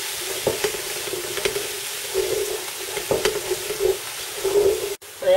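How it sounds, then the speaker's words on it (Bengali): Spices and ginger-garlic paste fry in a pan with a constant close sizzle. Spoon scrapes and stirs punctuate it rhythmically, building louder near the end before a brief drop. "এটাকে একটু ভেজে নেব।"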